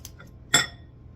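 A single short clink of a utensil against a bowl while mayonnaise is being mixed into egg sandwich filling, close and brief, in an otherwise quiet kitchen.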